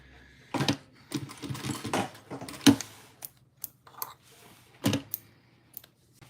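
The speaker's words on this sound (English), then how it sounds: "fold it over like that and then stitch it" Short bursts of a sewing machine stitching through folded fabric, close and fairly quiet, with rapid mechanical chatter broken by pauses and a few sharper clicks, with no voices.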